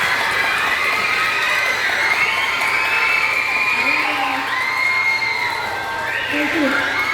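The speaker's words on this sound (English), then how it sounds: "one more round of applause for John McKinley" A school audience of children cheers, shouts and claps at a Blues in the School music event, loud excited high-pitched voices in a continuous crowd roar with a few rising whoops.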